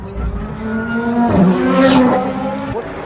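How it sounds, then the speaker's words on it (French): Ferrari 360 Modena GT race car engine heard onboard during a 2004 Le Mans Endurance Series 1000 km race at the Nürburgring, loud and close, revs rising and falling through a gear change. "Dans la catégorie GT, nous sommes à bord de la Ferrari Modena du team JMB."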